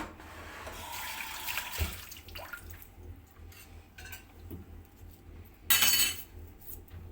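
Running tap water at a kitchen sink while food is washed under it, a steady close splashing stream with clinks of a glass or dish and a louder gush near the end.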